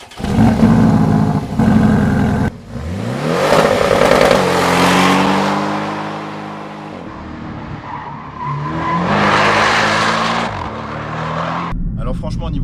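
A Porsche 718 Cayman S accelerates hard, its engine note climbing through rising revs, dropping on shifts and climbing again in loud sweeps, with someone talking over parts of it.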